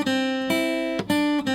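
Guitar phrase from a song, played without a pull-off, made of several ringing strummed chords with clear attacks at a steady pace, close and alone.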